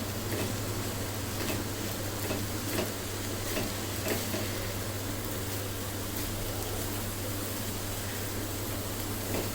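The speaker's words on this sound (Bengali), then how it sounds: "এখন আমি এটা সুন্দর মতন মিশিয়ে নিচ্ছি" Boiled rice with salt is stirred in a pan over a steady soft sizzle and hiss, with faint repeated ticking scrapes of the spoon, close and quiet, no voices.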